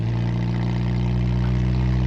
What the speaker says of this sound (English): it definitely seems to be revving up a little bit faster